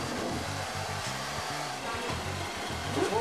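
A hair dryer whirs continuously at close range, a steady airy hum with low motor tones throughout.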